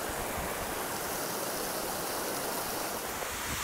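Waterfall water roars in a dense, steady wash of white noise, spray and mist crashing onto rocks nearby, on the Manaslu Circuit in Nepal.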